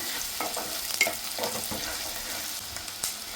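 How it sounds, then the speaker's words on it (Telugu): A large onion, thinly sliced, fries in a pan toward golden brown, giving a steady sizzling hiss broken by several scraping stirs close by, with no talk. "ఈ ఆనియన్స్ కొంచెం గోల్డెన్ బ్రౌన్ కలర్ వరకు ఫ్రై చేసుకోవాలి"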